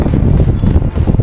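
Strong mountain wind buffets a hiking camp on Mount Raung, a loud, continuous low rumble of gusts pressing against the microphone with no break.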